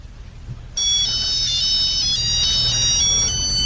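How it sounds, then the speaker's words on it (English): A bright electronic phone ringtone melody with a Scottish tune plays loudly and steadily after a brief quiet moment, repeating its tinkling phrase without pause. "It's a Scottish ringtone."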